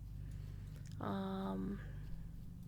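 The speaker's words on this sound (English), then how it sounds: "Meow, Thiefy." A cat meows once inside a game scene, a short rising-and-falling harmonic call standing out over a steady low hum of background ambience.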